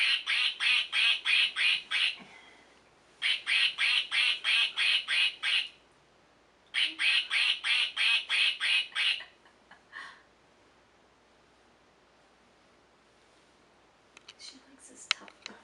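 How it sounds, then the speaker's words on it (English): A toy duck gives rapid, bright quacks each time its belly is pressed, in three fast runs of about eight squeaky quacks, followed by quieter stray sounds. "She knows you press the belly to make him quack."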